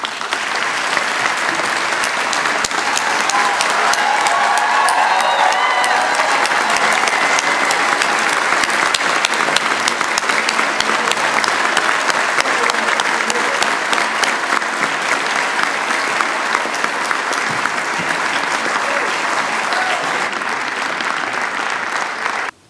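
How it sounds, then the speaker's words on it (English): Sustained, loud audience applause welcoming President Bill Clinton to a hometown crowd, a dense wall of clapping that holds steady for over twenty seconds and then cuts off abruptly. "So please join me in giving him a warm welcome."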